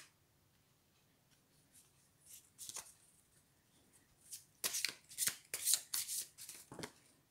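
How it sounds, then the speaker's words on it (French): Tarot cards are shuffled by hand nearby, a few soft riffles building into a quick run of sharp, crisp flicks and slaps of the deck. "si je mélange les cartes"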